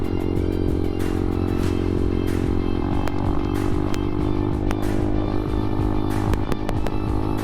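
The 190cc engine of an ADV Moto 190R, a Chinese five-speed motorcycle prone to a slight rattle, runs steadily and loudly up close, with a constant throaty drone and faint metallic clatter throughout.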